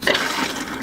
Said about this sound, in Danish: så fylder man noget vand i toilettet